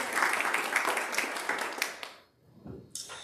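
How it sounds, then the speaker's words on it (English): Applause from a church congregation at a Sunday service for volunteers, a dense burst of clapping that fades out after about two seconds, followed by a short low rumble and a brief hiss at the end. "Let's give them a big round of applause."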